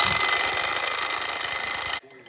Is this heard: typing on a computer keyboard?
no